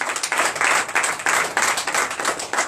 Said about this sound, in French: Nous donnez l'acclamation.